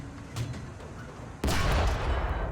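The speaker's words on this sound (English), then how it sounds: "Then I can fire my gun and kill some tanks." A tank gun firing in War Thunder, a sudden loud boom midway that cuts through a background of rumbling engine noise and distant battle sounds.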